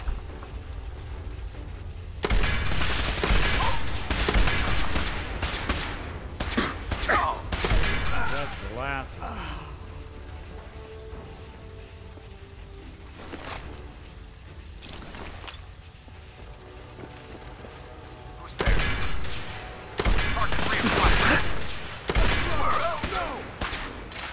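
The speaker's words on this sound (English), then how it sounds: "What is that? A Gatling laser?" A Gatling laser fires in Fallout 4 in loud, dense bursts, with a rapid crackling stream in several long volleys separated by quieter stretches of game ambience.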